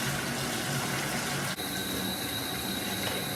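Lukewarm water pouring from a tap into a bathtub, a steady loud rushing splash that continues throughout with a brief dip and slight change in tone midway.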